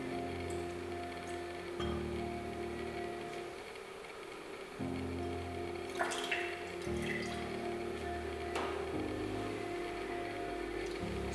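Distilled water running from a tap or wash bottle over a glass slide during a Gram stain, a steady close trickle with faint drips and a low hum throughout.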